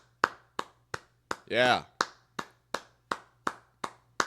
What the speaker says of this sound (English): Let's clap it up for them.